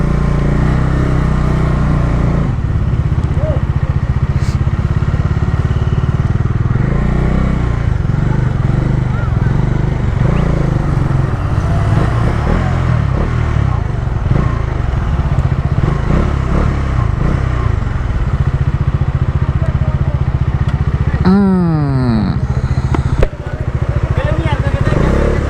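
A Bajaj Dominar 400 motorcycle rides on a Kenyan road, its engine droning loud and steady with wind rush throughout, a brief rising tone near the end before a drop in noise, and a voice talking over it.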